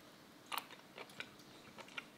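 Bites and chewing on cut pieces of raw bigfin reef squid, several soft, close, moist crunches spaced through a quiet moment with no talk.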